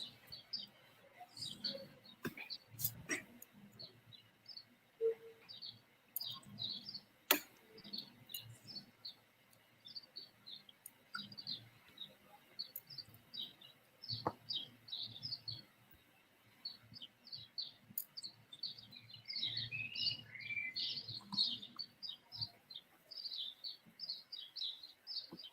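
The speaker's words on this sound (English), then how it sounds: "Can you hear the birds?" Small birds chirp and tweet repeatedly at a moderate distance, bright short calls scattered throughout near a kitchen, with a few clicks and faint low background rumble.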